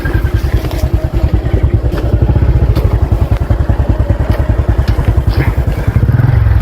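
A motorcycle engine runs close by near a river, loud and steady, its rapid pulsing chug holding an even rhythm throughout with a slight shift near the end.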